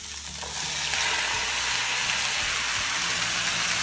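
Chopped tomatoes hit a hot pan of onions and cashew nuts on medium-low heat, and a loud, even sizzle of frying jumps up and holds steady, close and without talk.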